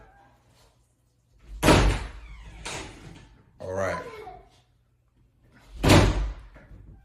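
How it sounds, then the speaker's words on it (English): A room door in a home is moved and bumped several times, then shut with a sharp, close slam; a person speaks briefly. "can you close my door back?"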